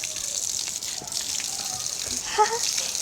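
Water gushes and splashes continuously during a backyard water fight, a steady rushing wash with a brief splash near the end, heard fairly close.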